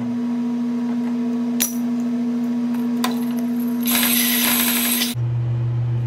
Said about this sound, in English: I'm going to clean that up with a wire wheel